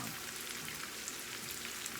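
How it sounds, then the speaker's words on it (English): A steady, soft crackling sizzle of milkfish frying in oil without flour, continuous and hissy, with no voices. "It's frying."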